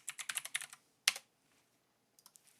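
Quick typing on a computer keyboard while entering a name into a roleplay police dispatch system, a rapid run of close keystrokes, a single sharp key hit, then a few soft taps, quiet and with no talk.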